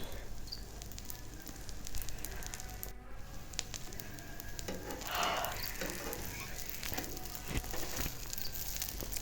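A flipped egg-and-flour snack fries quietly in a pan, a soft even sizzle and crackle that swells briefly midway, with no talk.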